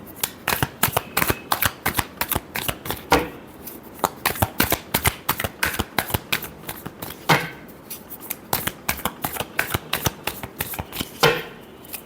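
Tarot cards are shuffled by hand in quick, crisp riffles and snaps, repeated in bursts close to the listener with short pauses.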